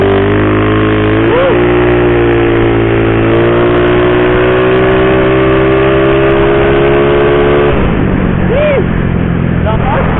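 A Yamaha Mio 180cc scooter accelerates hard, the loud engine tone climbing steadily, dropping briefly as it shifts, then rising again, recorded close with heavy wind roar.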